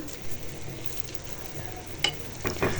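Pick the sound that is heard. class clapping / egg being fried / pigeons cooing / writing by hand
egg being fried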